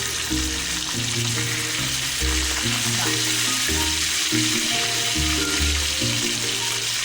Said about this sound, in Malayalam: നമുക്ക് 2 സൈഡും ഇതുപോലെ തന്നെ മറിച്ചിട്ട് നന്നായിട്ട് വറുത്തെടുക്കാം.